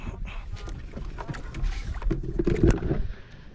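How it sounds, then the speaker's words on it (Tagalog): Boats churning through water, with a steady rumble of engines and splashing that swells louder midway, then eases off toward the end. "bali anim kaming bangka nagkukumpulan na dito"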